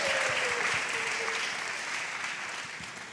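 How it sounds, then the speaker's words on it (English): An audience at a live podcast show applauds steadily for about three seconds, a dense, fairly close wash of clapping that tapers only slightly toward the end. "can we get a round of applause for the jumpsuit?"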